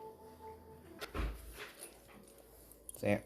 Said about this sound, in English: My dog says good morning.